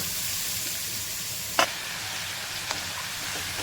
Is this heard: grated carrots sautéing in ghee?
yes